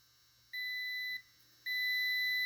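Steady electronic beeps from a multimeter on continuity test as its probes touch connector pins during a ZF5 transmission swap: two sustained tones, the first lasting about half a second and the second held to the end.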